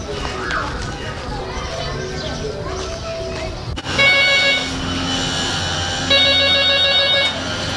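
An electronic telephone bell rings loudly in two repeated bursts after an opening stretch of background voices and ambient noise, the trilling rings sitting up close and clear.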